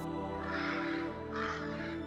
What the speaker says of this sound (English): these crows looked like they'd pecked the eyes out of a statue, and they were heading straight for us